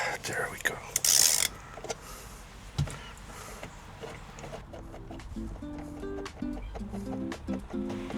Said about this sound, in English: So now we have to remove the center bolt.